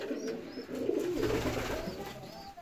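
Domestic pigeons in a loft during their incubation season coo softly in low, rolling, repeated calls, steady and close, with no talk.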